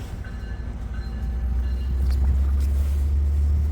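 An Exo commuter train on a Bombardier 3000 M set shunting at a station, with a loud low rumble that swells and holds, plus faint metallic squeals and clanks above it.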